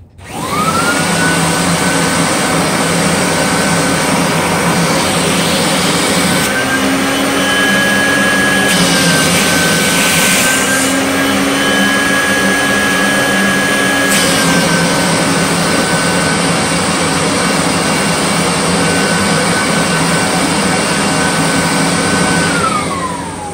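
A Kirby Dual Sanitronic 80 vacuum cleaner runs continuously during a hose-end suction test, a loud, steady motor whine with a high-pitched tone that shifts pitch slightly as the hose opening is blocked and unblocked, cutting off at the end.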